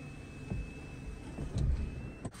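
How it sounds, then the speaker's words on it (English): The electric sunroof of a 2024 Honda CR-V Advance opens with a soft, steady motor whir inside the quiet cabin, ending in a slight thump. "So that section of the sunroof opens like that."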